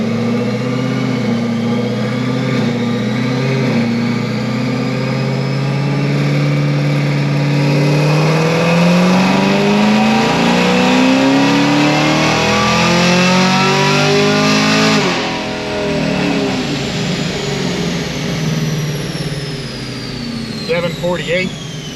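A Stage 3 sixth-generation Chevrolet Camaro ZL1 running 93 octane revs hard and loud, the engine note climbing steadily in a long sweep, then dropping off and settling into a rough, rumbling idle.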